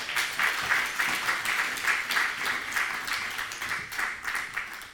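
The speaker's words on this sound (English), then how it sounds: "Another round of applause." Applause from an audience at a live author event, a steady wash of many hands clapping at moderate volume, continuing without pause and with no talk over it.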